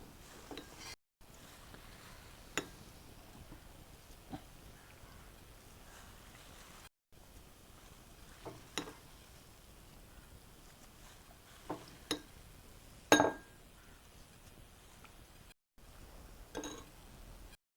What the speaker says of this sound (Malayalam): എണ്ണയിലേക്ക് ഇങ്ങനെ ഇട്ട് ഫ്രൈ ചെയ്യുക